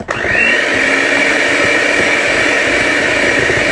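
An electric mixer beats blondie batter with eggs in a loud, steady whir. It starts abruptly and runs without a break, with no voices.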